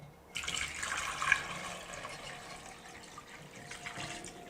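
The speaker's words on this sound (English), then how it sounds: "First we put water here." Water being poured into a cooking pot for a Chinese-style chicken soup with sujebi, starting abruptly as a close, steady splashing gush that settles into a softer continuous fill.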